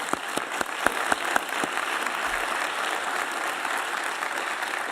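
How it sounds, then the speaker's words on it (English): Sustained audience applause at an award event, with a few sharp individual claps standing out near the start and then an even, continuous clapping that fills the rest. "he deserves for this another round of applause"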